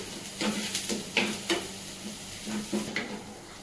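Onions fry in a pan for a North Indian-style onion curry with a soft steady sizzle, broken by a few clear scrapes and knocks of a spatula stirring.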